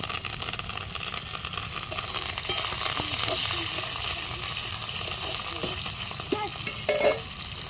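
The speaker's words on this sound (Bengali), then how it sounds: "কাঁচা লঙ্কা দিলাম, দিয়ে ভাজি ভাজি" Chopped green chillies frying in an oiled pan, giving a steady close sizzle throughout with scraping and stirring noises over it and brief soft voices in the background.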